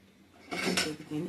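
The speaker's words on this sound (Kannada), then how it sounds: "ಇದನ್ನು ಕುಕ್ಕರ್ ಬಾಯಿ ಮುಚ್ಚಿ ನಾನು ಕುಕ್ಕರ್ ವಿಸಿಲ್ ತೆಗಿತೀನಿ" A short metallic clatter and scrape of a pressure cooker lid being fitted on, two bursts of clinking close by, no talking.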